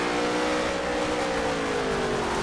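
A race car engine in a PS4 racing game howls at high revs through a turn, the pitch sliding down as the throttle lifts, loud and continuous.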